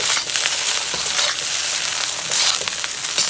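Garlic fried rice with shrimp tossed in a hot pan gives a loud, continuous sizzle, with repeated scraping and stirring strokes close by and no talking.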